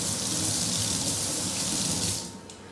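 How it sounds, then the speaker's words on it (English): Water runs steadily from a tap to refill the rinse water for an acrylic painting session, a close, loud gushing stream that eases off near the end. "at this point I'm going to dump and get clean water"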